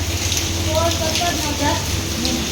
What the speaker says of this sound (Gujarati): બહુ જ વરસાદ છે અહીંયા પર